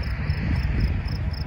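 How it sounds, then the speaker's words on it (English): Insects, likely grasshoppers, chirp in a park on a summer day, a steady high trill with faint repeated pulses over a low rumble of outdoor background noise, with no talking. "I hear the grasshopper."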